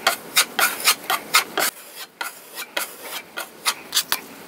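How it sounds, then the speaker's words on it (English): Rhythmic rasping strokes sanding drywall joint compound, about a dozen back-and-forth passes at a steady pace, close and fairly loud, with no talking. "then we should be good to sand"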